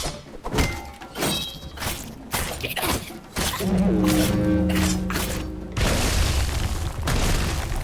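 Spear strikes in the video game Tails of Iron land as a string of heavy thunks and booming impacts, several sharp hits in quick succession with game music and effects layered over them.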